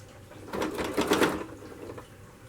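A sewing machine stitches a replacement zip into a jacket seam, a steady mechanical whirr that swells and fades in short bursts, up close with no talking.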